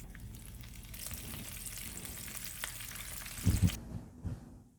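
Chicken taquitos fry in oil with a constant close hiss and crackle, broken near the end by a couple of louder bumps as pieces are moved, then the sizzle cuts off.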